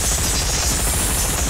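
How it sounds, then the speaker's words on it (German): Minigun fire in the video game Worms Forts: Under Siege, a dense, continuous rattle of rapid shots filling the short stretch at steady loudness. "Doch, die Minigun! Die Minikanone!"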